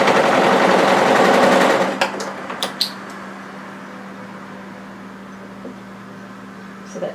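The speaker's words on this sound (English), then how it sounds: "Now you can use your overlocker if you want, you can use your plain stitcher if you want." A sewing machine runs in a steady loud buzzing burst of stitching on a cardigan facing for a 2032 Willow cardigan, stopping after about two seconds, followed by a few clicks and a quiet hum.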